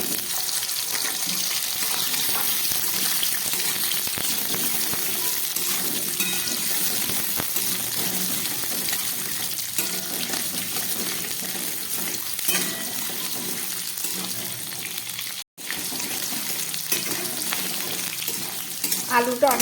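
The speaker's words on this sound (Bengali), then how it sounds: "এই তেলের মধ্যে আমি আলুটা একটু ভেজে নিচ্ছি।" Potatoes frying in oil in a wok (kadai) give off a steady, dense sizzle with occasional stirring scrapes. The sound runs continuously with no voices, apart from a brief dropout near the end.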